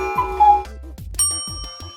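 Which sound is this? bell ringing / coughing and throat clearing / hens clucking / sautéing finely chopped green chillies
bell ringing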